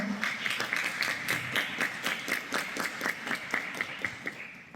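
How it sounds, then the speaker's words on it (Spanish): Rhythmic, evenly paced clapping from an audience at a talk on eating disorders, steady and fairly close for the whole stretch, without any voices over it. "Un fuerte aplauso, por favor"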